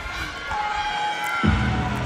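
A packed Olympic gymnastics arena crowd cheers steadily for Simone Biles before her all-around routine, a dense roar of voices and whistles that swells briefly near the end.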